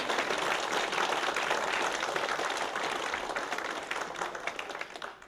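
An audience applauds steadily after a soprano's performance at an anniversary ceremony, a dense wash of clapping that slowly tapers off toward the end.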